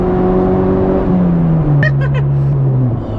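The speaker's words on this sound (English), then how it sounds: "Got a big loud exhaust." Modified Honda car with a loud aftermarket exhaust running close by, a steady droning engine note that dips slightly, with brief voices partway through.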